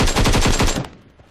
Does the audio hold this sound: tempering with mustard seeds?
no